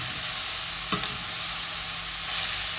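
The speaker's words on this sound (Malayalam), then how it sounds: "ഇനി എല്ലാം കൂടെ നമുക്കൊന്ന് ഇളക്കി യോജിപ്പിക്കാം" Taro leaf thoran with grated coconut, ginger and green chilies is stirred in a hot pan, giving a continuous close sizzle with one brief scrape of the spoon.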